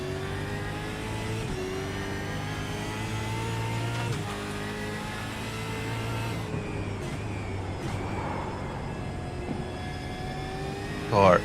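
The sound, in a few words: supercar engine revving in a racing video game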